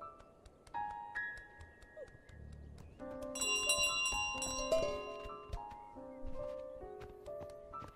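Small bell carried by the goose in Untitled Goose Game, ringing in repeated bright tinkling strokes over a game music score, moderately loud and close.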